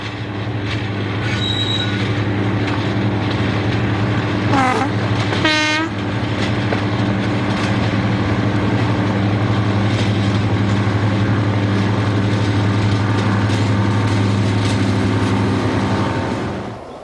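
A Class 55 Deltic diesel locomotive, 55006, roars past at Peterborough with a loud sustained engine drone, wheel squeal and rail clatter, plus a brief horn note early on, fading slightly at the very end.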